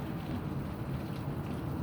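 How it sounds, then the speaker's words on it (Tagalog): Heavy rain falling outside during the rainy season, a steady, dense hiss of rain with no speech and no break. "ayan, grabe ang ulan"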